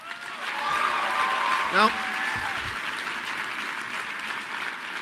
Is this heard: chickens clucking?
no